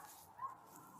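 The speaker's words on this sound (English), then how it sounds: "God damn it, dog." A dog gives a single short, muffled bark, faint and distant against a steady low background hum.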